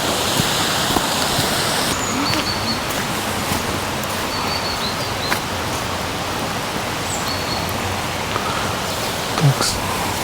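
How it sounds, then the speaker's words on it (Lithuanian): A waterfall at the Alanta manor grounds in Lithuania, with snow falling, gives a steady, even rush of broadband water noise that stays constant and fairly loud for the whole stretch, with no talking over it. "Lietuvos krioklys."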